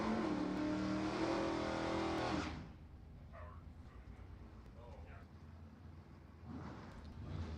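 NHRA divisional drag race cars, including a Camaro, roaring loudly at the start before fading down the strip into distant engine rumble, with a public-address voice talking over the noise.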